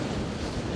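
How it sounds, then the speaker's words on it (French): Strong wind buffets an outdoor microphone in a continuous, loud roar of broadband rumble and whoosh, steady throughout with no talk. "Donc là aujourd'hui, il y a énormément de vent."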